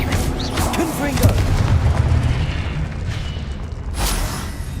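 Spellcasting in Hogwarts Legacy ending with a Confringo fire blast, a dense, loud stretch of booming impacts and crackling bursts layered over game noise, with a sharp burst near the end.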